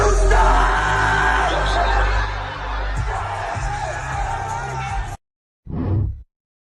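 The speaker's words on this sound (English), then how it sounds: "Wait for the scream." A loud yelling scream rises over a crowd at a concert, sustained for several seconds amid the noisy audience, then cuts off before a brief final shout.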